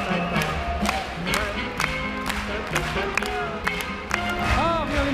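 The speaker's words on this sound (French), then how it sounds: "Allez, on applaudit." Circus audience under a big top clapping as the show begins, a busy patter of hand claps and light thuds mixed with crowd murmur, cheers and nearby chatter.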